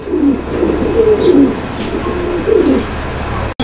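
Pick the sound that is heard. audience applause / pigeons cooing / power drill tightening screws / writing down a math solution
pigeons cooing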